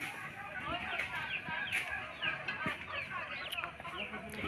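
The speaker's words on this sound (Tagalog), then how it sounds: "Ito mga manok mo, oh." Farmyard chickens cluck over a busy mix of bird calls, the clucking rising and falling throughout with voices talking nearby.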